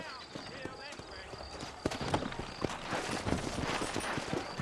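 Horses from the Red Dead Redemption video game, set in New Austin, clopping at a walk with steady hoof beats alongside game sounds and a voice talking.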